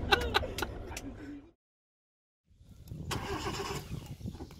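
Subaru Impreza STI Spec C Type RA engine cold-starting: a loud, close crank and catch, a moment of silence, then the engine settles into a rough, busy idle under background noise.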